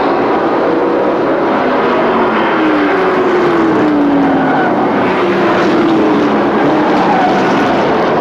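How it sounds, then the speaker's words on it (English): Pro trucks racing around an oval track, a loud continuous engine roar with a slowly gliding pitch as the pack passes, heard from a distance with no talk over it. "working on the back bumper of Brian Donahue as they come out of turn number 2"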